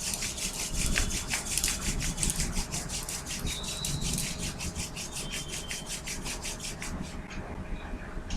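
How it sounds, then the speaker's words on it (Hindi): Palms rubbing briskly together during a guided meditation, a steady dry friction swish lasting several seconds, close and fairly loud, with no talking over it. "हाथों को रब कीजिए"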